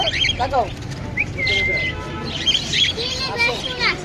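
A myna bird at a crowded bird market gives sharp whistles, chirps and warbling calls in quick bursts, close and fairly loud, with other birds and people talking in the background.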